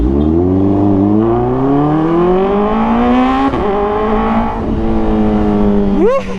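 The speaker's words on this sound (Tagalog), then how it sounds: "Ayun o, parang sinisinak pa yung motor eh." A Kawasaki ZX-4RR motorcycle fitted with an Austin Racing exhaust revs loudly and close by, its pitch climbing steadily, dipping, then holding high before a final sharp blip.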